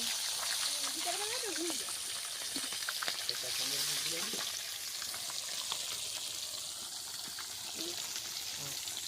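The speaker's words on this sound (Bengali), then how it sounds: "দিদি মাছ ভাজছে আর আমরা কাছে বসে মাছ ভাজা খাচ্ছি" Continuous loud sizzling of frying in hot oil fills the clip, with voices talking over it.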